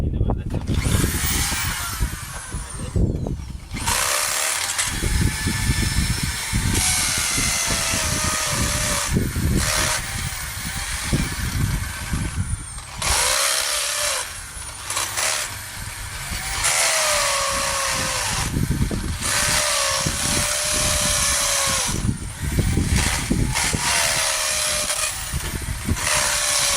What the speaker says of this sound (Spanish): en este caso yo me voy a hacer con el taladro porque ya le hice con el cincel